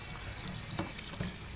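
Boiling water poured over a piece of cream dory fish to rinse it, a steady continuous splashing and running-water hiss, close and fairly quiet, with a couple of slightly louder sloshes near the end.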